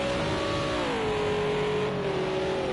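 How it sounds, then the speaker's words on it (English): A Renault GT3 race car engine in a racing video game at Spa, a steady, loud, grunty drone whose pitch sags slightly and then holds, continuous for the whole stretch with no talk over it. "I'm not too sure of that Renault, it sounds a bit grunty."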